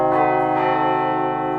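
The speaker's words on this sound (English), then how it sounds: "The diminished chord sounds perfectly in tune on bells, because it's all minor thirds stacked on top of each other." A set of bells strikes a diminished chord: a bright, loud clang with a few quick strikes at the start, then rich ringing overtones that hang and slowly decay, with no voices.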